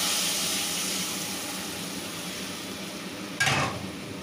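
Mustard paste lands in hot oil with a softer steady sizzle fading gradually, then a brief louder scrape of stirring near the end, close and without voices.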